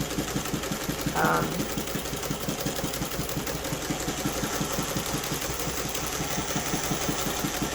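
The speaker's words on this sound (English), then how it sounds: "it's working nicely and sewing. And you can watch that the top is spinning as I'm rotating the handle under the table." A hand-cranked Cornely chain stitch embroidery machine, fitted with a 3D-printed part, runs steadily with a fast, even mechanical clatter that repeats throughout, close by. A brief voice cuts in near the start.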